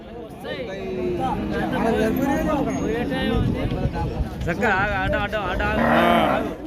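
Cattle lowing at a busy Pebbair weekly cow market among large-sized cows, several moos rising over continuous crowd chatter and people talking nearby.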